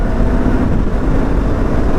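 Yamaha YZF-R3 motorcycle pulling hard in fourth gear, a steady loud engine roar with wind rumble, continuous and close with no voices.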